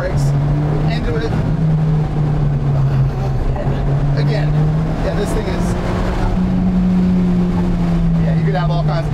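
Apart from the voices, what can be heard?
2016 Alfa Romeo 4C Spyder engine, driving through turns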